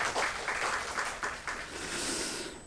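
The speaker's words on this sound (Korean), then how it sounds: "우리 박수로 한번 축복하겠습니다" Brief clapping from a Korean church congregation at a Sunday morning service, a short burst of many hands with a few uneven pulses early on that settles into a softer, even patter, moderately distant.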